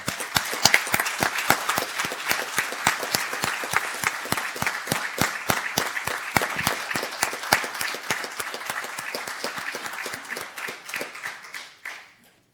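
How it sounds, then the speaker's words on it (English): Steady audience applause at a school board meeting honoring a state champion, dense rhythmic clapping from many hands sustained for about twelve seconds before tapering off abruptly. "How about a round of applause for Roy Wiggins?"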